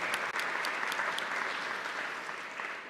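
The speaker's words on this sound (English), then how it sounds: "Let's clap and thank them for this pop-up because it was wonderful." Audience at a monthly meeting applauding, a dense, even wash of many hands clapping at moderate loudness, sustained throughout without voices.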